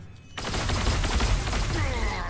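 Rapid gunfire from the tabletop strategy video game Warhammer 40,000 Sanctus Reach, a dense, continuous crackle of shots after a brief quiet start, loud and sustained without talk.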